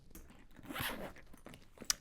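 A zipper runs along a BAGSMART duffle travel bag as it is closed, a faint close-up ratcheting pull lasting about two seconds and ending with a small click.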